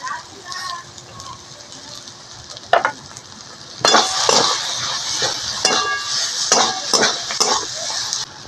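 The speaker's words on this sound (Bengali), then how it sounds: "আলুটা আমি সব কিছুর সাথে বেশ ভালো করে নাড়াচাড়া করে নেব।" A spoon stirs fried egg and potato sandwich filling in a sizzling pan, with scraping metal clinks and soft frying hiss, moderately loud and close, as a voice talks quietly in places.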